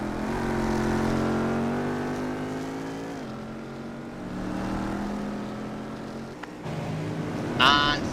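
Race cars from a TFR TCC Autumn 2012 round lapping a track, engines droning steadily with shifting pitch, a brief sharp high rev near the end.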